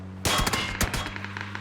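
Bursts of rapid automatic gunfire in the battle royale game PUBG during a competitive match, loud and close at first, then trailing off into fainter scattered shots with no talk.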